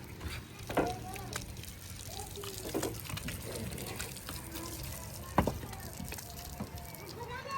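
Water splashing and gushing steadily onto concrete building pillars being cured at a construction site, with clattering knocks and bursts throughout, outdoors under background activity.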